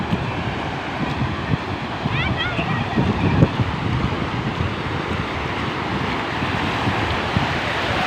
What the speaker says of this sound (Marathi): एक लाट आलेली आहे बारीक आहे